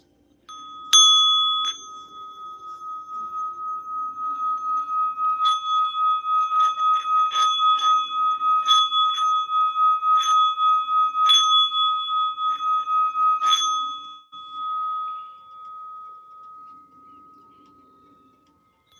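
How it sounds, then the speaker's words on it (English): Singing bowl played for a sound cleanse, struck repeatedly so clear metallic tones ring and sustain, strikes coming in a steady series for about twelve seconds before the ringing fades out alone. "I'm going to go ahead and do a singing bowl sound cleanse as we usually do"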